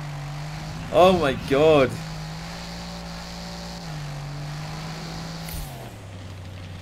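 An engine runs in Test Drive Unlimited Solar Crown with a steady low drone, stepping down in pitch a couple of times. A man briefly exclaims loudly over it near the start.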